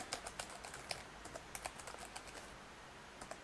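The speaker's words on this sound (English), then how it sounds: "and just type it in" Rapid keystrokes on a computer keyboard entering random numbers and letters, a steady run of light, close clicks with no voices.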